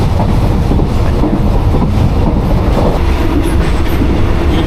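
Loud, continuous rumble of a Thai train heading to Bangkok rolling along the tracks, with steady rattling and clacking of the wheels, heard from inside a carriage.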